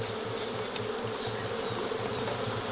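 Bee swarm buzzing steadily and close, a dense continuous hum of many insects with a low drone pulsing through it, outdoors where ground is being prepared for planting.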